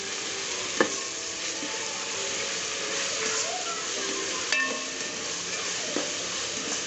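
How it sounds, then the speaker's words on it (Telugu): Ginger garlic paste frying in a pan for Hyderabadi bagara rice, a steady sizzle with occasional stirring clinks and scrapes, close and continuous. "కొద్దిగా వేగనిద్దాం అల్లం వెల్లుల్లి పేస్ట్."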